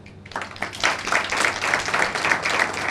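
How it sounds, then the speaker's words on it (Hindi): Clapping in a spoken English lesson setting, several hands clapping in a dense, even patter that rises after a soft start and holds steady for a few seconds, fairly close and with no talking over it. "ताली बजी"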